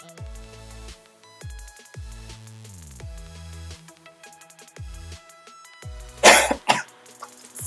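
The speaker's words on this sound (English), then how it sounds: "I'm getting over being sick, so I still have a bit of a cough." A person recovering from illness gives two sharp, close coughs in quick succession, loud over soft background music with a steady rhythmic beat.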